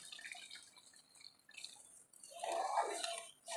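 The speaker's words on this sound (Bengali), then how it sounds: "এখন গরম জল দিয়ে দিচ্ছি।" Hot water poured into a pot of cooking rice and banana stem, a quiet, uneven trickle and splash that grows fuller toward the end.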